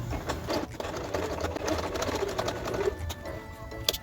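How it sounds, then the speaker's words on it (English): A sewing machine stitches a traditional shweshwe skirt, running in a close, rapid mechanical chatter with brief pauses and restarts. "Now back to the sewing."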